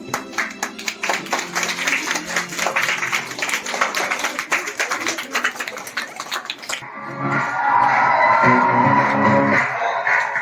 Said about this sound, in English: For our next performance of boys on Christmas Carol dance on Sataraja, give them a big round of applause.